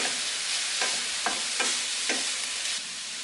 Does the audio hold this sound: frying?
yes